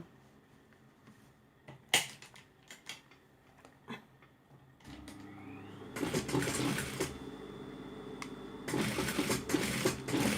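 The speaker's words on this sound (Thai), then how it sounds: "เราก็เย็บไปเลยนะคะ ขอบนี้นะคะ" A sewing machine stitches the waistband of a pair of jeans, starting with scattered clicks and handling noises and then running in a steady, close whir that grows louder through the second half.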